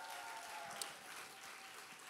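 A church youth congregation claps for a newly ordained minister at a worship service, a soft, steady patter of many hands heard from some distance, with no voices.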